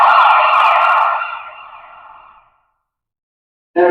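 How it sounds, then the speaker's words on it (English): An ambulance siren wails loudly as it passes, the pitch dropping and the sound fading away into silence before another burst cuts in at the end. "when the ambulance passes by the observer and moves away from the observer? We feel that the heat frequency drops, gets lower."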